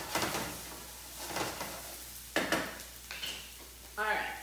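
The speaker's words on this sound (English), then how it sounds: "now I'm gonna add in my garlic" Garlic goes into a hot pan at a farmers market cooking demo, giving a soft sizzle mixed with stirring scrapes and a few clinks of a utensil against the pan.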